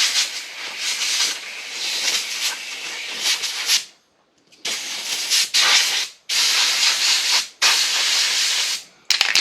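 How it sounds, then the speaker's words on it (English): Compressed air hisses as it blows out a Honda to clean it, loud and close, in long sustained bursts with a few sharp cut-offs and a brief silent pause, no talking. "I'll give it a blow out with the compressed air"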